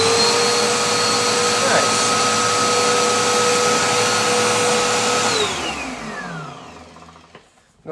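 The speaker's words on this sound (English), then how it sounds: "that's a nice little vacuum" A small Dirt Devil compact vacuum cleaner runs with a loud, steady whine close by, then switches off and its motor winds down with a falling pitch before silence and a final click.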